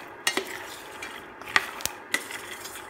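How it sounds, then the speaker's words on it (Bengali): Peanuts dry-roasting in a pan over medium-low heat, stirred repeatedly with a utensil: several sharp scraping clacks at irregular intervals over a quiet background, close and distinct. "চুলার আঁচ মিডিয়াম ও লোয়ের মাঝামাঝিতে রেখে বাদামগুলো আমি ভেজে নিচ্ছি।"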